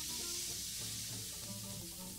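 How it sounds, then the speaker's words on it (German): Meat sizzling in a frying pan in the Bamba Burger cooking video game: a steady, close frying hiss runs throughout over soft background music tones. "Dann kommt das Fleisch in die Pfanne."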